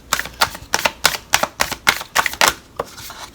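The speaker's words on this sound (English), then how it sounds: "I'm going to stick these in between here, split this, and shuffle again." A deck of tarot cards is split and shuffled by hand close up, giving about a dozen sharp, crisp slaps and riffles in a quick, uneven rhythm with no talking.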